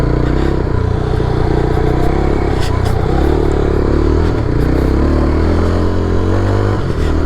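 A Yezdi motorcycle ridden standing up over a semi off-road gravel stretch, its engine a steady close drone layered with continuous clattering and scraping of loose stones, with no voices.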